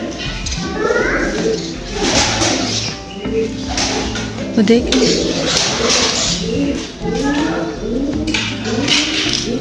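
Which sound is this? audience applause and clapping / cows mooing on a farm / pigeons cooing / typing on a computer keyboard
pigeons cooing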